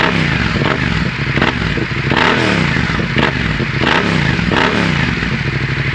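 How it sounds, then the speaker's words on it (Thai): A 2017 Yamaha MT-07 motorcycle exhaust blares close up, revving up and down in repeated surges over a rough, crackling idle. "เดี๋ยวฟังเสียงท่อนิดนึงนะครับ"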